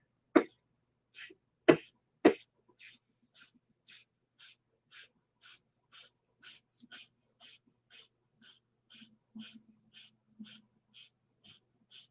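A few sharp, loud coughs at the start, then a long run of short, evenly spaced breathy puffs, one about every half second, during a Kundalini deep-breathing exercise. The sound is close and there is no talk.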